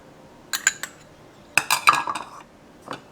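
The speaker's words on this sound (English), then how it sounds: "So we'll mix all the ingredients together." Tofu salad ingredients including rice powder and chili mixed in a bowl: a few scattered clinks and scraping clatters of a utensil against the bowl, close and fairly quiet, in short bursts with pauses.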